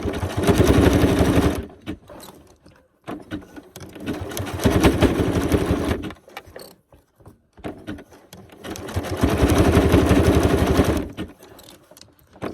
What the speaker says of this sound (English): And I just keep sewing around.